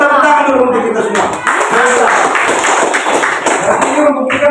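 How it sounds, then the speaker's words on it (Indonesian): Students clapping together in a classroom lesson, a short burst of brisk group claps mixed with voices talking over it. "tepuk tangan dulu untuk kita semua"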